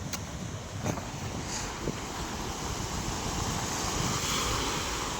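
Sea waves wash onto a sandy shore in a continuous roaring surge, with wind buffeting the microphone and no one speaking.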